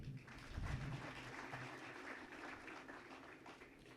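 An audience at a diplomatic gathering claps in sustained applause, a dense continuous patter that stays steady for several seconds, with no talk over it.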